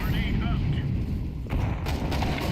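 A grenade detonates in a tactical shooter video game, a heavy boom over loud, continuous game noise with voices talking in the background.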